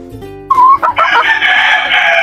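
A breeding-stock rooster crows loudly and close, one long full cock-a-doodle-doo rising after a few short clucks from nearby chickens.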